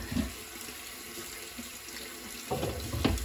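Running tap water splashes over a makeup brush at a sink, a steady close hiss of flow with brief louder spatters toward the end, no talking.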